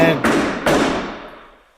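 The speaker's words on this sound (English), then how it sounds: "Bang on the door like this" Two heavy knocks bang against a door in quick succession, each thud ringing out and fading into a long reverberant tail.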